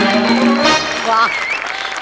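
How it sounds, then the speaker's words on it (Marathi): An audience at a Marathi comedy stage show's award announcement claps in a short burst of applause, partly masked by a voice speaking over it. "जोरदार टाळ्या"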